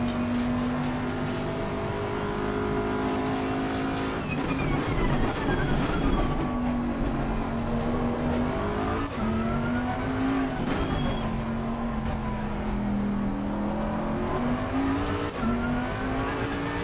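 GT3 race cars in a sim racing video game at Silverstone, including a Porsche, drone steadily with engines revving and shifting through gears, pitch rising and falling continuously across the whole stretch without talk.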